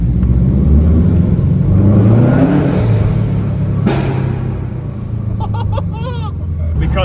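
A loud engine drones from inside a moving car, rising and falling in pitch as it accelerates, with a brief squeak-like chirp near the end.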